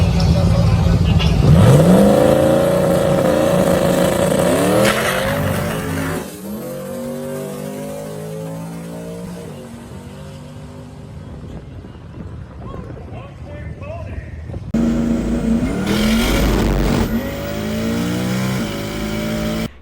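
A turbocharged Mustang GT making a drag strip pass at a raceway, engine roaring and revving loudly with rising pitch sweeps while the tires shake, the noise dropping away midway before surging again, with talk over parts of it.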